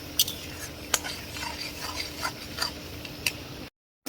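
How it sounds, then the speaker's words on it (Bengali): Masala being stirred and fried in a pan for beef liver and kidney bhuna, with soft scraping strokes and occasional sharp spoon taps over a steady low sizzle, close and fairly quiet. "এখন কষাই নিব।"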